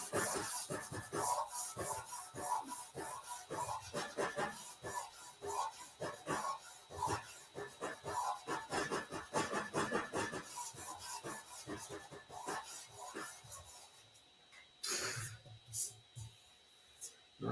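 Hand sanding of a metal tank with 180 grit paper around a fold near a weld gives quick, close rasping strokes in irregular bursts, quiet overall, ending with a pause and a couple of scrapes.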